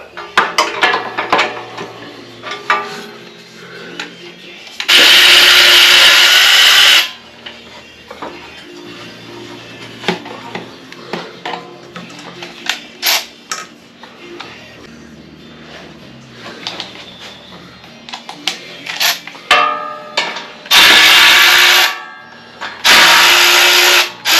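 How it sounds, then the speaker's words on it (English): A cordless power tool removes the exhaust pipe nuts from the cylinder heads of a Kawasaki FX850V engine on a Wright Stander ZK61 mower, with loud whirring bursts between clinking metal and tool handling noises. "And we'll use the cordless to finish taking them out."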